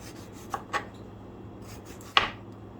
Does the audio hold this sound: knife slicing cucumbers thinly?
yes